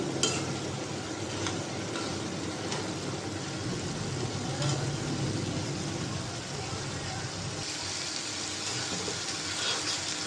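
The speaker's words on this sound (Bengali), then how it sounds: "আলু ভাজিটা একটু নাড়াচাড়া দিয়ে দিলাম" Potato fry with dried kachki fish being stirred in a pan, a soft continuous sizzle with intermittent scraping and clinks from the utensil, steady and close throughout.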